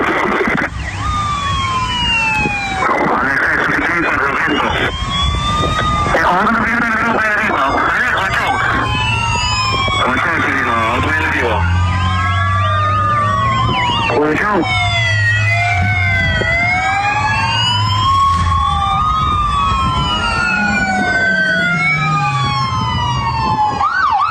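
Police escort and ambulance sirens wail and yelp together, loud and close, their rising and falling tones overlapping for the whole stretch above the low rumble of traffic, with voices mixed in.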